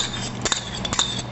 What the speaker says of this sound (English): Starting out with 1 egg, put it in a bowl, whisk it up a little bit